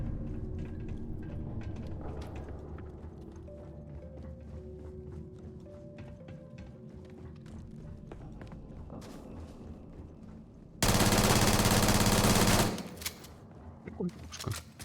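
In Starfield, a burst of rapid automatic gunfire erupts loud and dense for about two seconds, followed by a few scattered shots, after a stretch of quieter ambient game sounds.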